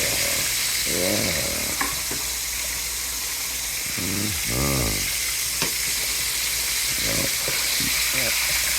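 Cubed steak frying in a hot pan gives a steady loud sizzle throughout, with a few brief scraping turns and a voice talking intermittently over it.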